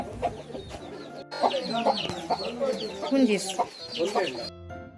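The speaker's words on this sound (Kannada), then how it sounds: "ಇಲ್ಲಿ ಕೋಳಿ ಕೂಡ ಸಾಕ್ತಾ ಇದ್ದಾರೆ ಕೋಳಿ ಮರಿ ಹುಂಜ ಎಲ್ಲ ಇದೆ" Several chickens, chicks and a rooster cluck and squawk close by, with rapid overlapping calls and a rooster's cry, in a continuous farmyard chatter.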